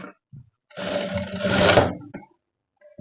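Sewing machine stitching a readymade invisible hook-and-eye strip onto a blouse, one steady whirring run of about a second and a half, close and loud, after short quiet pauses.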